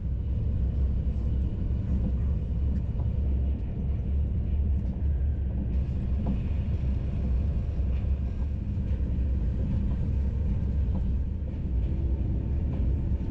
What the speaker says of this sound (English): before we rattle through Calatrava's Lyon Airport TGV station